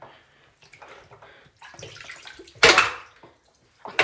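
Water sloshing and splashing in a bath during a Minecraft animation, soft intermittent swishes building to one loud close splash, then a brief quiet and another splash.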